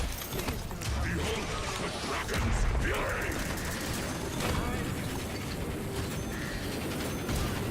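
A flame turret in the video game Paladins blasts fire in a steady, dense roar, layered with busy mechanical clatter and gunfire-like battle noise throughout.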